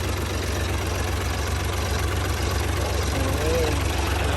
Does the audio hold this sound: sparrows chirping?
no